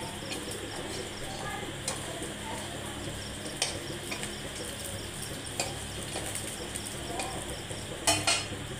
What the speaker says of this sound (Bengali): এই জিনিসটা হালকা করে ভাজা হবে